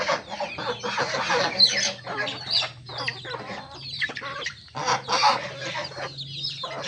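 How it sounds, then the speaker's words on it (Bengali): Chickens and a large rooster on a village poultry farm, clucking close by in a continuous run of chattering calls with short pauses between them. "আমাদের সবচাইতে বাড়ির সবচেয়ে বড় মুরগা এটা"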